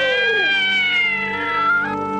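A cat gives one long, drawn-out meow, loud and close, its pitch sliding slowly downward with a slight wail at the end and no other sound behind it.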